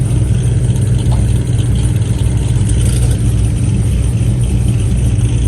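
A Chevrolet Camaro engine idles after a cold start at an outdoor car meet, a loud, steady, close rumble that holds without pause.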